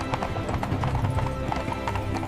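Horse hooves clip-clop in a steady, quick rhythm, dense and close, with a faint whinny-like tone mixed into the busy backdrop.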